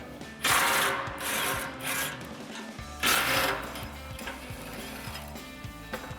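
Socket wrench work loosening 18mm nuts on the winch plate of a Bronco front bumper, with bursts of ratcheting and rubbing metal clicks separated by short pauses, close and moderately loud.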